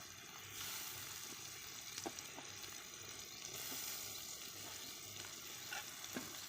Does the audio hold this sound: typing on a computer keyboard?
no